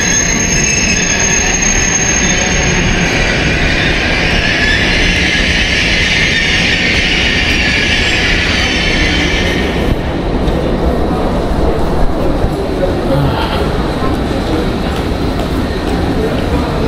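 A train passing at a German railway station, loud and close with a steady rolling rumble and a bright high squeal of wheels that cuts off partway through, leaving lower rail noise.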